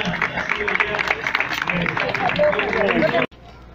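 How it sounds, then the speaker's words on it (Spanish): Crowd applause at a public event held at a hospital in Huixquilucan, dense clapping sustained for a few seconds under a nearby speaking voice, then cutting off abruptly. "Ahí está fuerte el aplauso de esta mañana."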